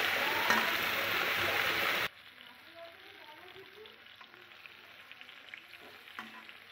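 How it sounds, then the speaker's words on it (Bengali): Loud, dense sizzling of cauliflower frying in hot oil for about two seconds, then it cuts to a much quieter kitchen background with faint clinks. "এবার ফুলকপিগুলো সেম লাল লাল করে একটু ভেজে নেব।"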